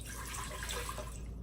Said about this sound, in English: I'm going to add 1 1/2 cups of water into the Instant Pot liner